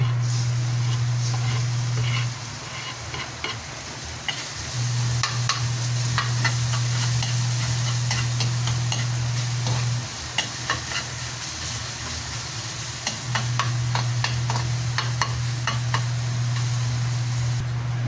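Garlic sautés in a pan for chicken tinola, a continuous soft sizzle and hiss with occasional stirring clicks, heard close over a steady low hum that drops out and returns, with no one talking.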